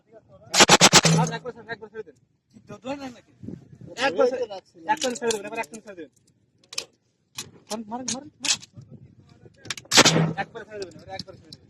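Bangladesh Army firing practice: two loud gunshot bursts ring out, one near the start and one near the end, with people talking and shouting commands between and around them.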